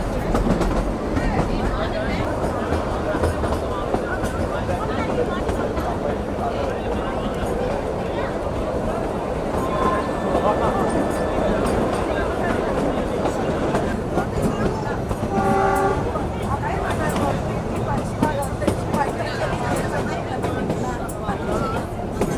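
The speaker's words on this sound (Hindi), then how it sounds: "ये रूट और साथ में जो ट्रैक साउंड आ रहा है" The Kalka Shimla toy train, the Himalayan Queen, runs along the mountain track with a steady loud rumble and rhythmic wheel clatter throughout, a horn sounding briefly midway, and someone talking over it.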